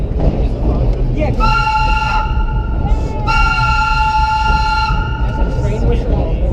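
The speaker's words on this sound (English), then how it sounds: "Train whistle. It's a whistle." A steam-era style train whistle sounds on a holiday train ride along the 2 Avenue line, two long sustained harmonic blasts over steady rumbling rail noise and crowd murmur inside the train.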